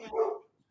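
A single short, muffled bark comes from a dog in another room during an interview, then fades quickly into silence.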